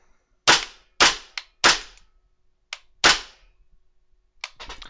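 A WE gas blowback airsoft pistol fires single semi-automatic shots: six sharp, loud cracks spaced irregularly. A softer clatter of handling follows, with no talking.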